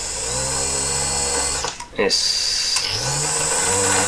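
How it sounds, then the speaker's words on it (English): A power drill cutting a hexagon back hole, a steady loud motor whine that briefly dips and surges as the bit bites, with a word spoken. "Just selected a random drill."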